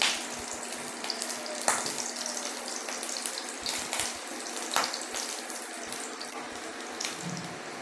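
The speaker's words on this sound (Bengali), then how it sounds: "রসুন কুচিটাকে এবারে ভেজে নেবো।" Chopped garlic frying in a pan in a home kitchen, a continuous crackling sizzle with scattered sharp pops and spatters, fairly quiet and heard alone.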